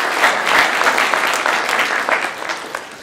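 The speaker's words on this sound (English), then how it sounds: "I'd ask that we give them another round of applause" Audience at an education panel gives a sustained round of loud, dense applause, many hands clapping steadily throughout with no voices on top.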